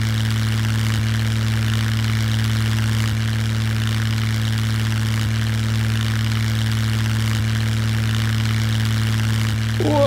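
A Kinglet Mariner seaplane in the game Scum drones with a steady engine and propeller hum, loud and unbroken throughout, with a brief extra rattle near the end.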